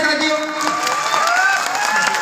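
An audience applauding at a direct selling meeting in Jaipur's Nirmala Auditorium, with steady, dense clapping throughout and a person talking over it.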